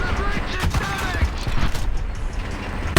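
Gunfire and explosive bursts from a tank battle in the War Thunder Mobile game sound in rapid succession, with a sharp loud hit at the end and a voice talking over the action.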